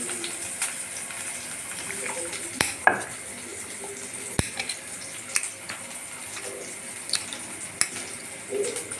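Onion fries in a pan while being stirred, a soft, even sizzle broken by occasional sharp clicks of a spoon against the metal.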